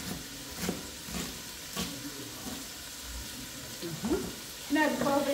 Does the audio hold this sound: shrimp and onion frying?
yes